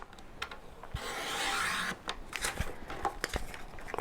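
Paper for a Stampin' Up! box card is cut to size, giving a soft close rasping, sliding cut about a second long, with light handling taps and rustles before and after.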